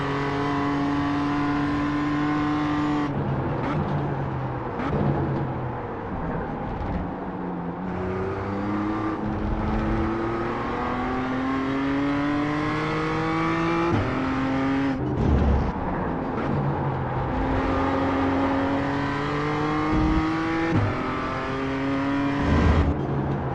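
A BMW M2 CSR race car laps Laguna Seca in iRacing, its engine note climbing steadily through each gear with repeated shifts and downshifts, a continuous, close onboard howl with no talk.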